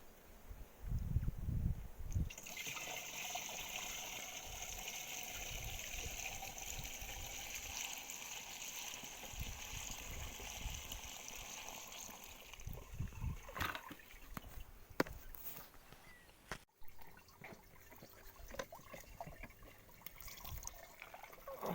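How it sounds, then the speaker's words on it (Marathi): Water pours steadily through a pipe into a tank to mix crop spray for a 50-acre chili field, a continuous outdoor splashing rush with a few knocks and handling clatters partway through. "पायपाधारीत पाणी टाकत आहे बघा"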